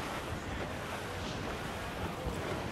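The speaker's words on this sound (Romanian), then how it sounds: "Super periculos vântul ăsta acum" Steady broadband wind and surf at sea aboard a sailing ship in the game Assassin's Creed IV: Black Flag, a continuous loud rushing that fills the whole clip with no voices.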